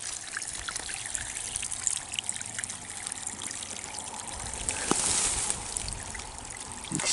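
Spring overflow water trickles steadily into a small desert creek, a soft continuous dribble and pour close by that swells briefly louder toward the end.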